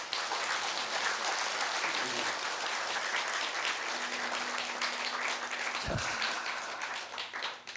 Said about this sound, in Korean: 스님한테 박수를 한번 치세요.